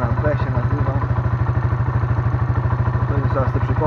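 An SMC 170 Blaster quad's engine running after a cold start, a close, loud, rapid steady thumping idle with even chugging pulses and a little mechanical clatter, with no break throughout.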